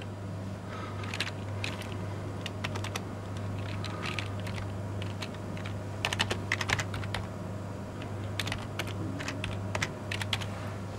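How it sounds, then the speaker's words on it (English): Rapid, irregular keyboard typing with bursts of clacking keys over a steady low hum, fairly close and moderately loud. "I'm going to start typing."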